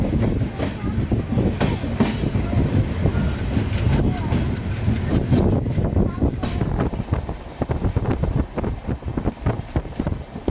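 Gwalior Agra Ahmedabad superfast express train pulling out of Pindwara station, a loud, steady rumble with rhythmic wheel clatter and wind buffeting the microphone, a voice speaking over the noise.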